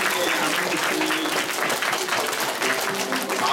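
Church congregation clapping together at a Mother's Day outdoor joint worship service, a dense steady burst of applause from many hands filling the whole moment.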